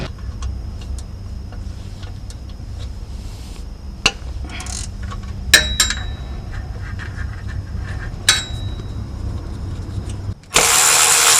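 A steady low mechanical hum with a few sharp clicks, ending in a sudden loud burst of an impact drill whirring close by, removing parts during a 2014 Honda Civic CVT transmission replacement.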